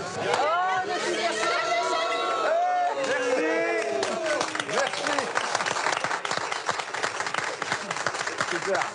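A welcoming committee of local officials and the mayor applauds arriving visitors at a fishermen's spot, steady clapping with excited crowd chatter and cheering voices throughout.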